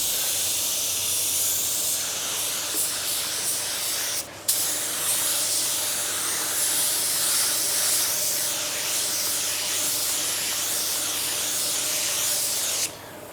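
Base coat paint sprayed from a spray gun in cold weather, a continuous close, loud hiss with two brief breaks between passes.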